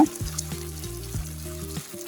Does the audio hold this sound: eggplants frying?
yes